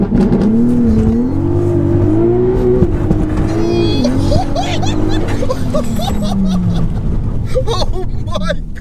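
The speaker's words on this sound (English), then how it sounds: "we're gonna launch the car because why not?" A roughly 1000 hp turbocharged R32-engined Mark 6 VW Golf R launching hard, engine revving up through the gears with a rising, loud, close roar while people talk and exclaim over it.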